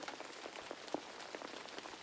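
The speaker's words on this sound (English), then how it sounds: "Koko and his grandma watched the raindrops running down the outside of the glass" Rain falls steadily outside on glass and the ground, a soft hiss of scattered patter and drips with a few sharper drops standing out, close and gentle, with no voices.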